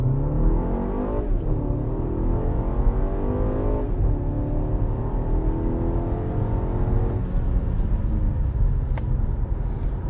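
A BMW X1 with a turbocharged four-cylinder engine accelerating at full throttle: a loud, continuous engine drone rises steadily in pitch, dropping back twice as gears change, then climbing again without a pause.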